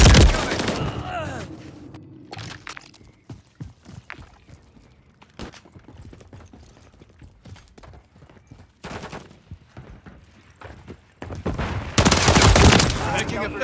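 Shooter-game gunfire crackling in irregular bursts and sharp single shots, with loud heavy volleys at the start and again near the end, while voices shout in between.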